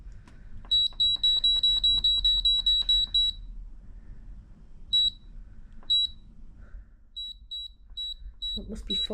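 Rapid electronic beeps from an electric steam oven's buttons repeat in a fast run, then return as scattered single and paired beeps, clear and close with faint background noise.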